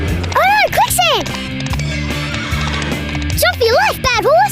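A cartoon horse gives several loud, wavering neighs and whinnies, two bursts near the start and more toward the end, over busy animated-scene background sound.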